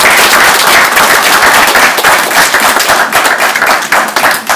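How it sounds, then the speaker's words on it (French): A crowd at a political commemoration gathering applauds loudly and continuously, with dense, close clapping filling the whole moment. "il faut les applaudir."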